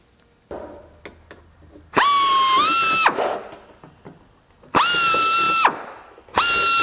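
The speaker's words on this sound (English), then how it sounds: "has enough pressure to deburr the back face of the panel, pops down and comes back out." A pneumatic deburring tool works holes in a metal panel, giving three loud bursts of high whining air-motor spin, each stopping abruptly, with softer clicks and handling noises between them.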